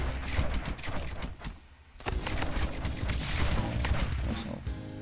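Mortar towers in the tower-defense game Rogue Tower fire in a dense, continuous barrage of booming blasts and crashing impacts. The volley briefly dips in the middle, then resumes loud and sustained with clattering debris.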